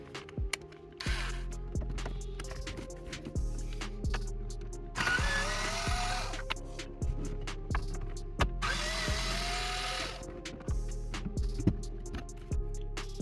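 Screws on a Porsche 986/996 centre console are backed out with a T20 Torx bit, giving repeated short whirring bursts of a small driver in close, steady start-stop rhythm with clicks between runs.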